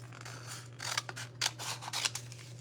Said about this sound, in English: And so I just need to cut a little piece off of here.